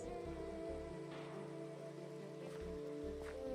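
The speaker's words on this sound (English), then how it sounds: "And it's raining." Rain falls in the video game Minecraft as a faint, steady patter of drops on a surface, with soft game tones beneath it and no voices.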